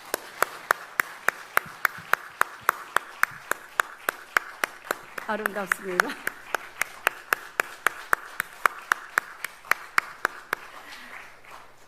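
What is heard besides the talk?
congregation applauding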